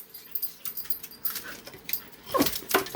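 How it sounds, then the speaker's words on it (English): Puppies whimper and yip in the early hours, a restless chorus of high whines that grows louder and denser toward the end, close by and with no talking. "I have a chorus of puppies behind me"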